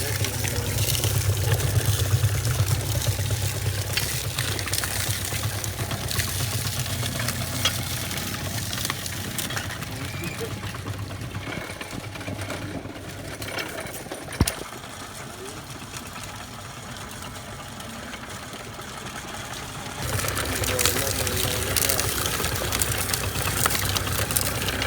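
A sugarcane juice extraction machine runs continuously at a village jaggery-making site, with a steady mechanical churning drone that stays loud throughout and swells near the end, while voices are heard in places.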